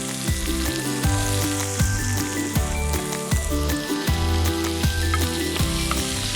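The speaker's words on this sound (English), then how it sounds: "Ooh, sizzle." Continuous crackling sizzle of garlic and onions frying in hot duck fat, close up, with a steady rhythmic thumping and faint tones in the background.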